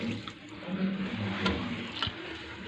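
Water poured into a pot of brown lentil masala, a steady gushing splash with a few sharper spatters, fairly close and alone without talk.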